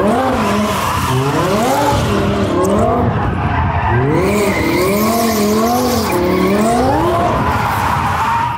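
A third-generation Camaro with a 632ci Chevy big-block engine locks up all four tires and skids, letting out a loud, continuous wavering squeal that rises and falls over the engine and road noise.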